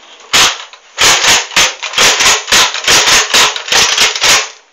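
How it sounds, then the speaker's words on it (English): A toy shotgun is fired in a quick series of about a dozen sharp, loud snaps, some in close pairs, each crisp and near, with no talking. "So now we're ready to shoot our shotgun."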